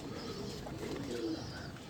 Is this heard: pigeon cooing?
yes